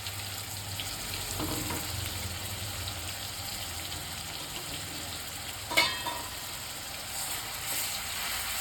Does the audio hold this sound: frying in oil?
yes